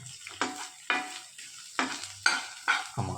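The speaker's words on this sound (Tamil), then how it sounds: "இந்த ஆனியனை போட்டு வதக்கிடுவோம்." Onions sautéing in a frying pan with a little oil for egg parotta, heard as repeated bursts of stirring and scraping at a steady pace over a soft sizzle, close and moderately loud.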